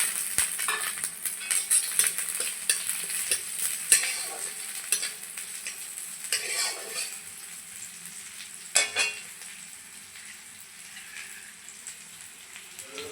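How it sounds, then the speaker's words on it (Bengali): Onion and chopped chili frying in a pan, stirred with a spatula: soft sizzling under repeated scraping and clinking strokes, steady and close, easing toward the end. "পেঁয়াজ আর লঙ্কা কিন্তু ভালো করে ভেজে নেওয়া হয়ে গেছে"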